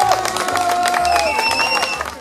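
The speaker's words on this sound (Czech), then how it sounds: "Takže potlesk ještě jednou." Spectators at a ski race in 2012 give a loud burst of applause mixed with cheering voices and some low thumps, close and continuous.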